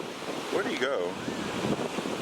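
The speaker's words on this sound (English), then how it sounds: "That ocean is fierce." Fierce ocean waves roll and crash in a steady, loud surf wash with wind buffeting the microphone, and a voice briefly rises over the noise.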